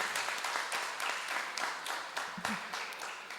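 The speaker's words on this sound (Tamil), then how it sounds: "அவர்களுக்கு பலத்த கைத்தட்டுதல்கள்." Audience at a Tamil debate forum in San Jose applauding a speaker as she is introduced, moderate steady clapping with slightly uneven surges.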